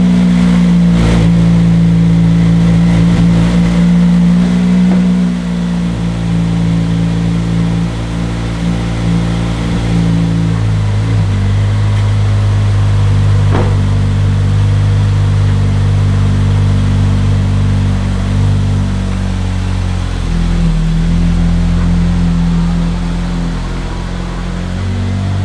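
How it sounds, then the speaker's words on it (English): A Toyota Celica GT-S Turbo engine runs loud and close after starting, holding a steady drone with a few dips and swells in revs, no talk over it. "Let's put the car back down, start it, and bring it outside of the garage."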